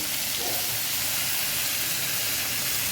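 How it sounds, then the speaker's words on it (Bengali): Dried red chillies and cumin seeds sizzle in hot oil, tempering for a vegetable hing aloo dum: a loud, continuous close-up hiss that stays steady throughout with no voices. "লঙ্কাগুলো দিয়ে দিলাম শুকনো লঙ্কার ফোড়ন এরপর দিয়ে দিলাম জিরে"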